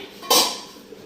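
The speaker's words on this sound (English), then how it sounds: "So I'm going to take off the lid." A metal lid is lifted off a water bath canning pot holding jars of applesauce, giving one sharp, close clank followed by a brief fading ring.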